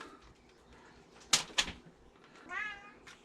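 Cats meow near a bowl of salmon juice in a home kitchen, with a couple of sharp, close sounds followed by a rising meow.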